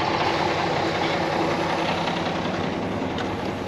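Concrete pump truck engine idling as it warms up, a loud, steady diesel rumble that stays close and constant for the whole span with no talk.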